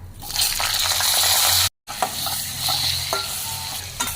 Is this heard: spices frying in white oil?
yes